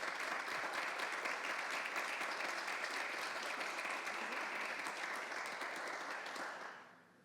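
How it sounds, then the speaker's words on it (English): Sustained audience applause at a summit fireside chat, dense and steady for about seven seconds before tapering off at the end. "A round of applause for Rudy."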